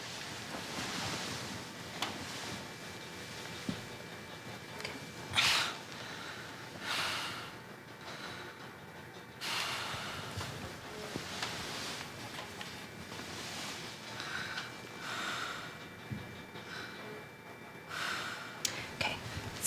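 Slow, deep breaths drawn in and pushed out through the mouth by a patient with HIV-related pneumocystis pneumonia, several airy cycles, quiet and close, with no speech.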